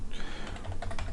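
Keystrokes clatter on a computer keyboard during an After Effects puppet-animation session, a close, steady run of quick clicks with a few louder taps and no voices.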